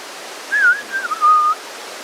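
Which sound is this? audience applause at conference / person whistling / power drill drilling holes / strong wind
person whistling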